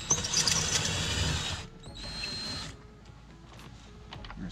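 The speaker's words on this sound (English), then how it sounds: "Alrighty, so I got my 7mm socket here." A power tool fitted with a 7mm socket whirs and squeals while backing bolts out of a 1999–2007 Chevy Silverado door, one long run followed by a shorter burst and quieter handling.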